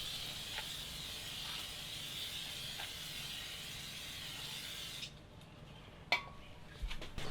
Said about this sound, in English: Just going to take some good old brake cleaner and just spray it over it.